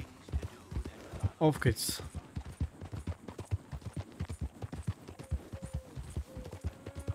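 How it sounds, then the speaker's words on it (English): Horse hooves clip-clop at a steady, even rhythm while riding toward Blackwater in Red Dead Redemption 2, close and clear beneath someone talking throughout. "ich reite das erste Mal jetzt hier nach Blackwater"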